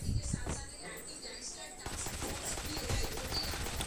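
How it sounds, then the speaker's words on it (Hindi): Rapid machine gun fire in the Free Fire Max zombie mode, crackling in steady bursts throughout amid busy game effects, with someone speaking excitedly over it. "तो भाई यहाँ पे मशीन गन है भाई"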